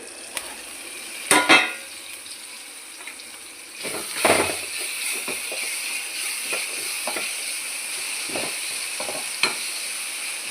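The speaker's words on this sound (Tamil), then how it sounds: "தக்காளி வதங்கிடுச்சான்னு பார்க்கலாங்க" Tomatoes sauté in a covered pan on the stove, a steady close hiss of sizzling broken by a few louder scrapes and stirring clatters of a spoon against the pan.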